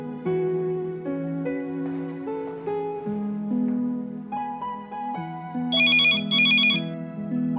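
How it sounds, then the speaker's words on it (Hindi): A telephone rings with a melodic electronic ringtone, repeating its tune steadily at moderate volume with no one speaking. "फोन उठाना जरा।"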